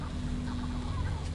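Seagulls squawk and cluck in a video game set on sickly waters, a steady close chorus of harsh bird calls over a low, continuous hum.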